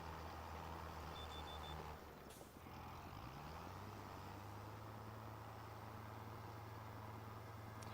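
Steady electronic reversing beeps sound from a vehicle in Farming Simulator 25, joined by a sharp air-brake hiss and a low engine drone that settles into a continuous tone.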